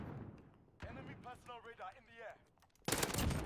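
Automatic rifle fire in Call of Duty Modern Warfare, team deathmatch with an AN-94: brief game sounds and an in-game voice, then a loud burst of rapid gunfire at the end.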